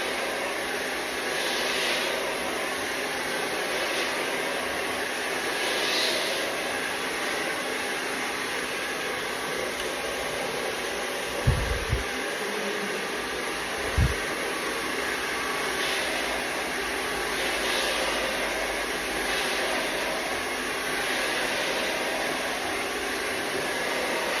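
A hair dryer blows continuously while hair is dried with a small paddle brush, a steady broad whoosh throughout with a couple of brief low knocks partway through.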